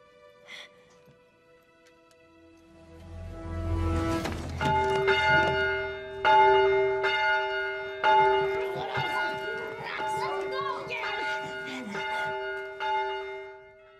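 A church bell rings repeatedly with long sustained metallic tones that build and overlap, fairly prominent in the scene with quiet background sounds beneath.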